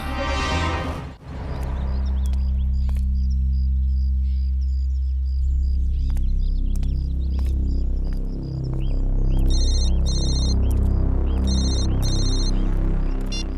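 A digital phone ringtone trills in two short repeated bursts near the end, layered over a loud, droning musical score.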